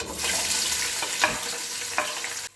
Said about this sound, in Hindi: यहाँ पर ना मैं बिरयानी के लिए प्याज फ्राई करने लगी थी।